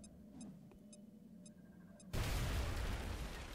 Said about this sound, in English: Oh, can we activate the pod with a grenade?